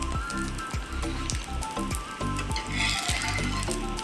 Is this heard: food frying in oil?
yes